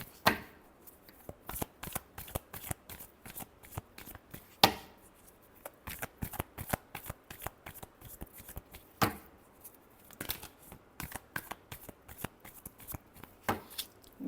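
A deck of tarot cards is shuffled by hand over and over, crisp riffling bursts and sharp snaps in uneven clusters with brief pauses, close and quiet, with no talking.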